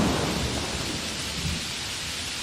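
Heavy rain pours steadily on a stormy night with a low rumble of thunder, making a dense, loud wash of noise with no voices.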